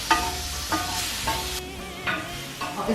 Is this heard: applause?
no